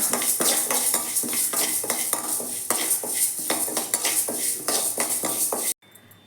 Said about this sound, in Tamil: அடுத்தது பார்த்திங்கன்னா பச்சை பயிரை வறுத்துக்கலாம்.